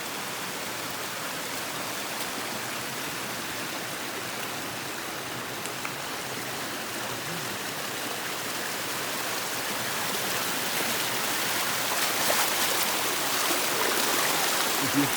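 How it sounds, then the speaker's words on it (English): Water rushes down a mountain trail from waterfalls on the Appalachian Trail, a steady broad roar of flowing stream that grows slightly louder toward the end, with no voices. "here we are, all happy to see the waterfalls and the water rushing down the mountain"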